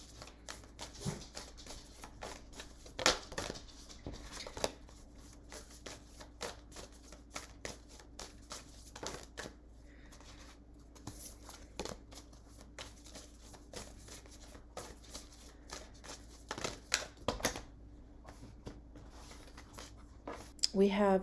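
Tarot cards being shuffled by hand in repeated crisp riffling bursts and soft slides, fairly close and moderately quiet, running through the clip with no speech over them.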